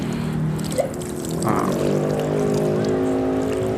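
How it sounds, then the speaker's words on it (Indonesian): Water poured over a body during ritual washing of a corpse, a gentle continuous pour and trickle heard up close under a steady low background hum. "Jadi dimiringkan ke kanan, disiram, beres"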